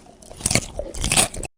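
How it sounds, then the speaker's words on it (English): Raw celery being bitten and chewed: a few close, loud, wet crunches in quick succession with fibrous crackling, heard alone with no talking. "Royalty-free sound effect of celery biting chewing"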